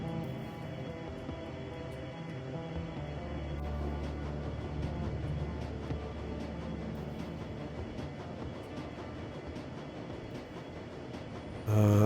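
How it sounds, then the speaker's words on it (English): A train rumbles steadily along in the video game Shadowrun: Dragonfall, a low continuous roar with faint rhythmic clatter and tonal hum over twelve seconds, ending in a sudden louder thump. "the train rumbles its way toward Brandenburger Tor"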